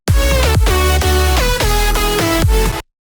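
A future house transition drop element played dry with no automation: bright synth chords with quick downward-bending notes repeating in a steady rhythm, loud and continuous before cutting off abruptly.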